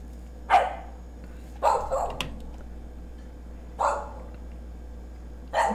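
A dog gives four short, sharp barks at uneven intervals, close and fairly loud, with quiet pauses between them.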